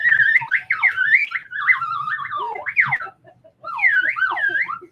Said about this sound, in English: I want to go really hard on the slide whistle.